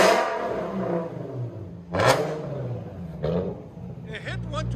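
A 2014 Infiniti Q60 S with a 3.7L V6 and straight-piped dual exhaust rumbles and then roars through two sharp revs, loud and close, with voices in the background.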